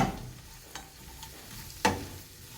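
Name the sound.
fennel seeds and spices frying in oil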